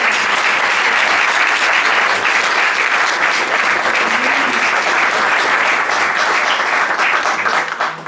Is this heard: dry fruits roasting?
no